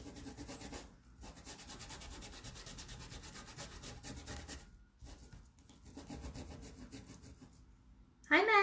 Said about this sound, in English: even though this is watercolor paper, it is not holding up due to all the scrubbing